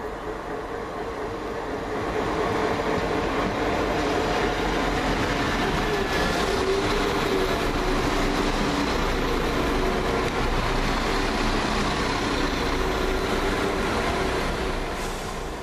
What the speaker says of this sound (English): Just now coming down, freight train from Eastleigh to Stud Farm.